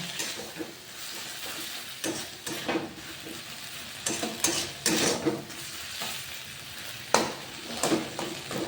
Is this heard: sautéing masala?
yes